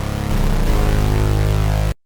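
Serum synth brass notes with a long release, successive dense, buzzing chords that blur into one another for about two seconds before cutting off abruptly, loud and alone.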